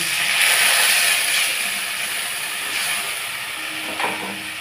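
Water is poured into a hot pan of fried green chillies while cooking a pomfret curry, bringing a loud, steady, broadband hiss and sizzle that fades slightly over a few seconds, close and alone.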